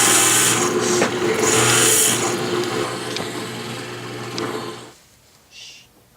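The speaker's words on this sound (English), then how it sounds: "I've loaded up my drill press with my pen blank reamer tool." A drill press driving a pen blank reamer to trim a pen blank flush with its brass tube, a loud whirring, grinding cut that stops abruptly, leaving only a faint short rattle.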